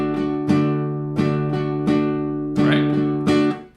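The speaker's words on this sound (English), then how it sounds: "a strumming pattern, with a straight feel" Strummed guitar chords ring out alone, a steady run of even strokes with a consistent, straight rhythm.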